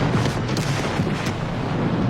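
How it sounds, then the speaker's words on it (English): Explosion of a flammable vapor cloud at the TPC Group chemical plant, a loud, continuous roaring rumble with heavy low-frequency energy filling the whole stretch without a break. "In just 2 minutes, the flammable vapor cloud found an ignition source and exploded."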